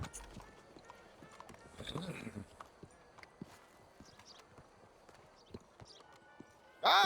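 Horse hooves clop in the video game Red Dead Redemption 2, soft and scattered steps at low level, with brief game voices and a louder burst near the end.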